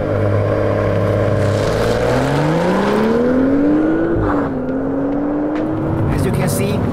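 A BMW 2 Series Coupé pulls away under launch control, its engine note climbing steadily through the revs and dipping briefly at a gear change before rising again, loud and close throughout.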